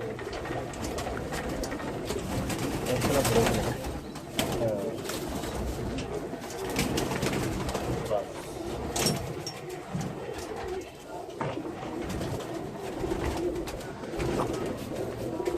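Pigeons coo repeatedly close by amid rustling and shuffling movement, a continuous low burbling chorus with occasional faint voices in the background.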